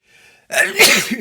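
A single loud sneeze bursts out after a faint breathy intake, close and sharp, followed by a short trailing exhale.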